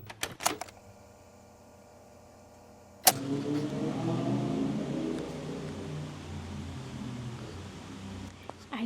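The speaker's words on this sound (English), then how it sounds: "every time I start to film, there's always a freaking motorbike passing by" A motorbike passes by outdoors. After a few quiet seconds, a steady, broad engine roar rises abruptly and holds at a moderate distance, then eases slightly toward the end.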